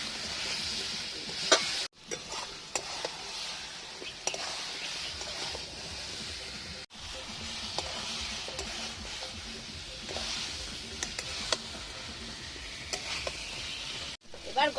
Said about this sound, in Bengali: এই দেখো অনেক ভাজা ভাজা হয়ে গেছে, আর একটু ভাজবো, ভেজে জল দেবো।